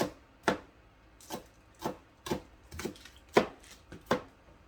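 Green onions cut with the back of a knife on a board, seven or eight separate chopping knocks at an uneven pace, close and fairly crisp, with no talk.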